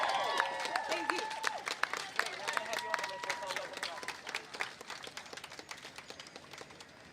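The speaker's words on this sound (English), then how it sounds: "Let's give Adelana another round of applause." Rally crowd at a Milwaukee march against racism applauding steadily after a speech, dense clapping with scattered cheers and voices mixed in, fairly close and sustained throughout.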